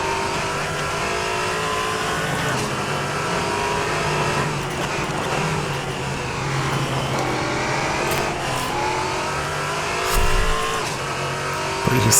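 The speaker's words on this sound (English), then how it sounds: "Pretty scary moment there with the slide. The rear tires are getting cooked." A race car in a multiclass sim racing endurance event slides with its rear tires squealing under a steady, droning engine note, with other cars on a big grid and a brief louder thump near the end.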